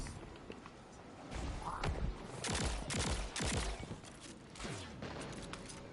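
A short run of gunshots in Destiny 2 cracks out in a cluster of loud, distinct bursts mid-clip, with a few quieter thuds before and after.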